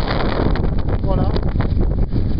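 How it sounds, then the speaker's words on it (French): Strong wind of over 20 knots roars and buffets steadily across the whole clip near sailboats at Sainte-Maxime, a loud continuous rush with gusty rumbling. "Là il y a bien plus de 20 nœuds de vent quoi."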